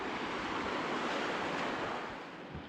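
Steady roar of sea waves washing against a rocky shore at Kasaragod, loud and continuous, with wind buffeting the microphone.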